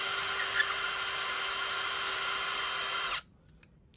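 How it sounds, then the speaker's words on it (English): Power drill whirring steadily on a bolt of a Cinch loom plate, a close, continuous high-pitched whine for about three seconds before cutting off to near quiet. "All we do is take out these two bolts."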